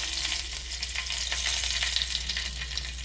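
Bay leaves and spices crackling in hot oil left over from frying fish heads, a dense, continuous sizzle close up with no talking.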